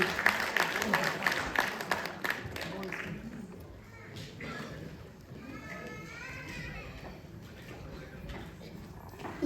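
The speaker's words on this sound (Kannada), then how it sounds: "ಚಪ್ಪಾಳೆ ಮೂಲಕ ಸಾನ್ವಿ ಕಾರ್ತಿಕ್ನ ಆಹ್ವಾನ ಮಾಡ್ಕೊಳ್ಬೇಕು." Audience applause fills a hall at a Kannada Rajyotsava and Deepavali school event to welcome a young speaker to the stage, with loud clapping at first that fades under ongoing voices and crowd chatter.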